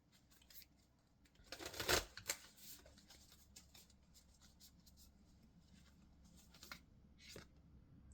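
An oracle card deck, the Moonology set, is shuffled in a quiet room, with a short cluster of soft papery riffles and slaps near the start and faint, sparse rustles afterward.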